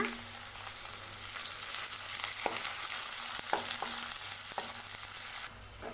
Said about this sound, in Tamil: வெங்காயத்தை நல்லா வதக்கி விடுங்க